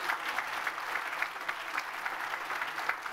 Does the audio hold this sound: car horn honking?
no